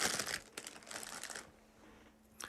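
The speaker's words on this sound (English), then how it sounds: "So it's in a clear plastic bag packaging. And I'm going to be taking out one piece" A clear plastic bag package crinkles and rustles up close as one square, corn-syrup-scented piece is pulled out, with loud crackly bursts easing to softer rustles and a final crinkle.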